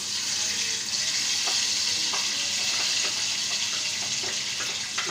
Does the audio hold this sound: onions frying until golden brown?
yes